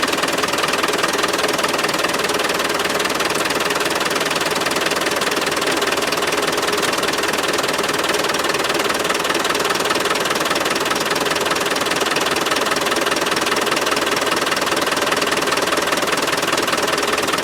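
A Land Rover 300Tdi diesel engine idles with a fuel supply problem, a steady close rumble with a fast knocking clatter running unbroken and evenly loud throughout.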